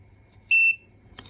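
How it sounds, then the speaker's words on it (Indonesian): A single short electronic beep sounds from a tap-card reader as a card is tapped, clean and isolated against a quiet background. "bunyi beep sebanyak 1 kali"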